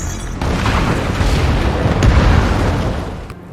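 A heavy explosion from the action film Shooter: a loud, sustained rumbling blast with a sharp onset, roaring on for several seconds and slowly fading.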